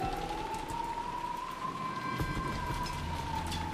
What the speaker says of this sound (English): Even the quiet sound of the rain was distracting.